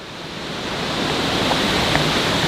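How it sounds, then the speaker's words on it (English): A steady, dense rush of rain and wind fills the air, loud and unbroken throughout. "Just pouring rain and windy."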